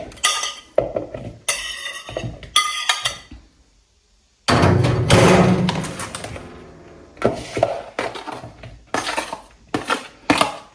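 Salad ingredients of cucumber, Russian sausages, boiled eggs, lettuce, raisins and mayonnaise are combined with utensils in a dish, giving a run of clinks and clatters, a brief quiet gap, then a dense stretch of mixing noise and more scattered knocks.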